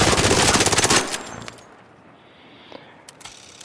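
The Bobcat gun in ARC Raiders fires a rapid full-auto burst for about a second, loud and close, followed by a mechanical rattle and a few faint clicks.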